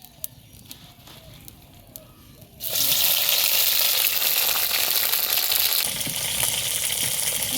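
Oil erupting into a loud, steady sizzle as potatoes drop into a hot wok on a village stove, the hiss starting abruptly after a quieter moment and holding close and strong.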